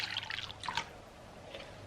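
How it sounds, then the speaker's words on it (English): A short trickle of lukewarm water pouring in soft bursts into a bowl of melted butter, faint and close, with a brief splash near the end. "I'm going to add 1 cup of lukewarm water."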